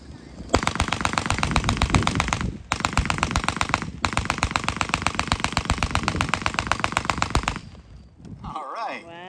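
A 1919 Browning belt-fed machine gun firing 30-06 rounds at a gun show demonstration, loud, rapid sustained bursts of rhythmic automatic fire with two short pauses, then a cheer from the crowd at the end.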